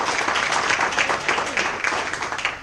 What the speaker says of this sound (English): So I'd like to give Dallas a round of applause for that.